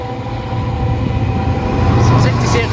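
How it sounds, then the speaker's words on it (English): A freight train running from Southampton to East Midlands Gateway rolls past with a loud, steady rumble of wheels and wagons and a whining tone, growing slightly heavier toward the end. "now I'm back for this final freight train before I finish off and go towards home"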